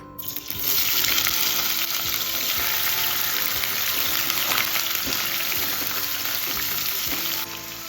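Paneer cubes sizzle in hot oil in a pan, a loud, steady crackling hiss that holds nearly constant throughout with occasional stirring, and no voices.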